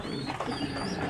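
Pigeons coo softly on a farm, a short low murmuring call at close range with no voices.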